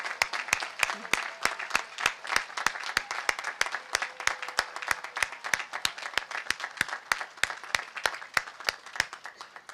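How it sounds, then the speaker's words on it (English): Steady applause for retiring staff at a 2023 college commencement ceremony, many hands clapping in a dense, sustained patter that holds evenly for the full stretch with no talk over it. "please join me in thanking them with a nice round of applause"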